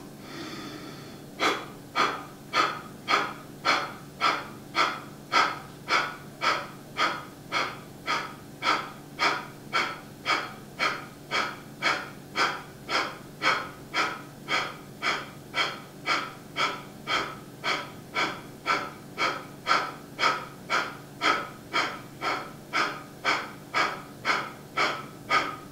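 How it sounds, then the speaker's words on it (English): Kapalabhati fire breath during a yoga practice: a long steady train of rapid, forceful nasal exhalation pulses, about two per second, close and clear with no talking. "We'll begin with Kapalabhati, fire breath. 3 rounds, 50 pulses each."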